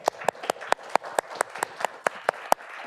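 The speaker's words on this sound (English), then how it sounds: "So one last round of applause." Sparse, distinct claps from a small audience after an ethics CLE presentation, a handful of sharp individual hand claps in an uneven rhythm, fairly close and moderately loud.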